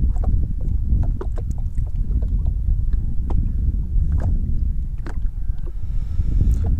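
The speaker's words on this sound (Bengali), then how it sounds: "হাওরের ছোট ছোট ঢেউ" Small waves lapping against a boat on the shallow Chaptir haor wetland near Dirai, Sunamganj, with a gentle breeze; soft, steady low water wash and light rushing air, punctuated by occasional faint knocks and splashes, no voices.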